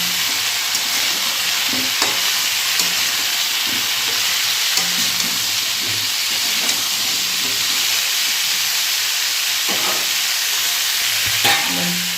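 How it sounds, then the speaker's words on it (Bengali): Leafy puishak greens with turmeric and salt stirred in a hot pan over a loud, continuous frying hiss and sizzle, with soft spatula scrapes and occasional knocks showing through, close up and with no talking. "এবার ভালো করে নাড়াচাড়া দিয়ে আঁচটা একটু মিডিয়ামে রেখে চাপা দিয়ে দেবো"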